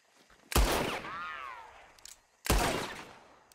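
Two loud, close gunshots in Red Dead Redemption 2, spaced about two seconds apart, each with a sharp crack and a ringing tail in a quiet setting.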